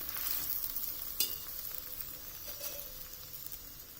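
An onion paratha fries in oil on a pan with a soft, steady sizzle. One brief sharp click comes about a third of the way through, and the sizzle then carries on quietly and evenly.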